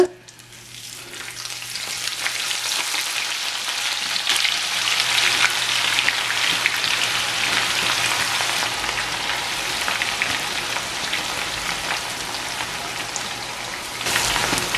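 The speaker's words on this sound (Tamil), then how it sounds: "இப்போ இதையும் வந்து போட்டு பொரிச்செடுப்போம்" Onions sizzle and crackle in hot oil while frying for a Jaffna-style sprat fry, a loud, steady frying hiss that continues throughout.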